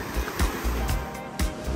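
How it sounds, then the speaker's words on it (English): Ocean surf at Copacabana and Ipanema beaches in Rio sends up a broad, steady roar, with rhythmic crashing swells rising and falling every half second or so, close and loud. "the waves here in Copa and Ipanema are sometimes brutal"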